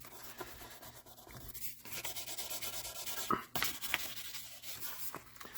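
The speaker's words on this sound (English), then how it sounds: "I also have 3500 grit on a disc. That's for pretty much for clear coat sanding." Clear coat being sanded with a 3500 grit disc during a restoration, a soft continuous rubbing and scratching that is close and quiet, varying in strength.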